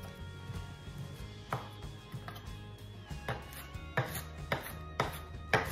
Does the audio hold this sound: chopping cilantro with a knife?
yes